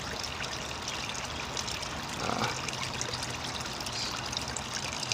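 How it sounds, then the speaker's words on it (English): Continuous trickling and splashing water, like a small waterfall pouring into a pond, steady and close with no voices. "you can hear both waterfalls perfectly"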